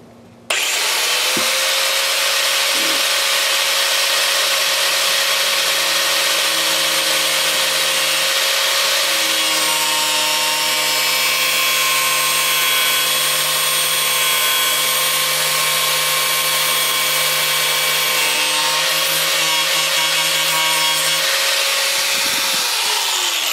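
A Milwaukee angle grinder grinds down a rivet on a Duracraft jon boat, a steady loud whine with a harsh broadband rasp that holds for about twenty seconds before winding down, with no talk over it.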